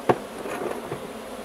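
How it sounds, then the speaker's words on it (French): Honeybees buzz around hive frames during a spring hive inspection, a soft, close, steady hum with one brief louder knock at the start. "Les abeilles sont déjà toutes en train de le lécher."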